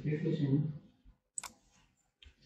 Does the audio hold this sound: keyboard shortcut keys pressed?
yes